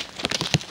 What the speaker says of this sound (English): it's raining pretty hard now